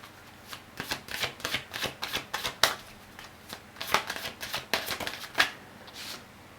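Tarot cards being shuffled by hand: a steady run of soft, close riffling flutters and papery slaps, moderately quiet, with no talking over them.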